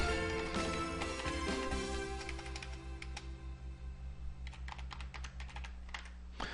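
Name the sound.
typing a search word on a computer keyboard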